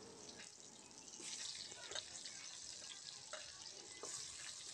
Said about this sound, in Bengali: এই মাছ ভাজার তেলে আমরা আলুটা সুন্দর করে ভেজে নেব।